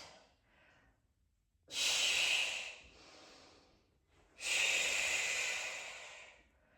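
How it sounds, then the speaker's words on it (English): Breathing during a mat Pilates exercise: two strong, airy exhales alternate with softer, quieter inhales in a slow, steady rhythm, heard close with no talk. "Exhale, lower. Inhale, lift."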